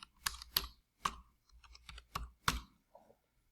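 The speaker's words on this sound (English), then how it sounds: "you have to type the password also." Quiet clicking of keys on a computer keyboard as a password is typed, a quick irregular run of taps and clacks, close and alone.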